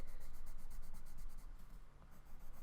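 A black and gray coloured pencil scratches across paper in quick, regular strokes, a soft close-up rasp that briefly eases partway through.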